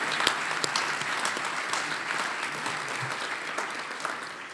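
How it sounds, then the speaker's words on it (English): A breakfast crowd applauds at a youth charity event, a broad, sustained clatter of many hands in a large room, steady and fairly loud throughout with no one speaking. "I think she deserves another round of applause for all that"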